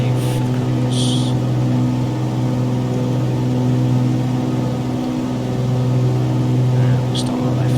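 A simulated light aircraft engine holds a steady cruise-power drone in Microsoft Flight Simulator, a constant, even hum with a faint whir and no change in pitch throughout.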